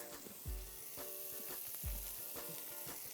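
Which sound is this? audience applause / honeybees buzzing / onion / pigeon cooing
onion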